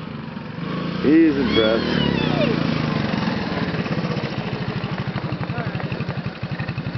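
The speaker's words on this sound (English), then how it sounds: "That's how we mow our lawns in Oregon." A lawn mower runs steadily through a yard in Oregon with a rapid, chugging engine pulse. Someone talks over it near the start, and the machine stays loud and close throughout.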